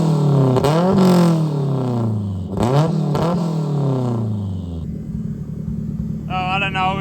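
A BMW E36 with a Honda K24 swap, a big turbo and a fixed exhaust revs in a few sharp blips, then settles into a steady, close, rumbling idle.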